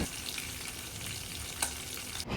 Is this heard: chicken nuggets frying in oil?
yes